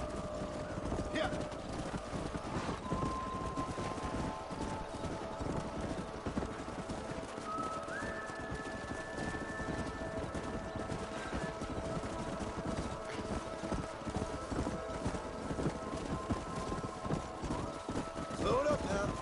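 A horse gallops in the Red Dead Redemption video game, hooves clip-clopping in a fast, continuous rhythm under steady game ambience and music with faint tones.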